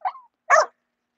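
Bulldogs bark in two short separate yips about half a second apart, close and fairly loud against silence.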